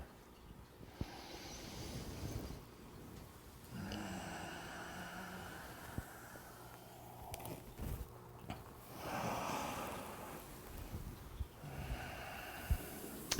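Slow, deep breaths during a beginner qigong exercise, long airy inhales and exhales in a steady rhythm with short pauses between, close and fairly quiet, with no talking.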